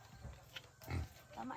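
A pig on a rural provincial farm grunts in a few short, close oinks amid people talking nearby.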